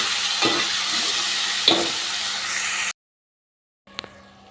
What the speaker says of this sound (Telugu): ఇదంతా కూడా ఒకసారి ఇలా కలిసేలాగా కలుపుకొని ఇలా చక్కగా కుక్ అవనిద్దామండి